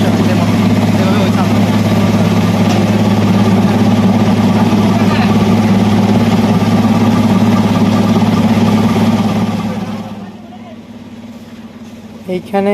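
An old ship motor driving a rice mill huller at full load roars in a loud, steady, close drone that drops sharply near the end, with a voice talking over it.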